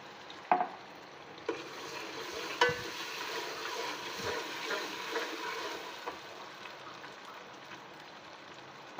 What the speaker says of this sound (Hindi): अब मैं इसमें डालूँगी अदरक लहसुन का पेस्ट